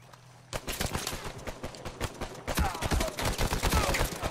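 Rapid gunfire from an Uncharted 4 online multiplayer match, a burst of close, loud shots that thickens into a denser volley of overlapping rounds with no talk.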